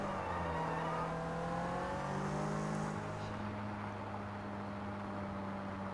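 A car engine in the open-world game Sleeping Dogs hums steadily while driving, with a sustained low drone and shifting engine tones that rise and fall slightly through gear changes, loud and close without speech.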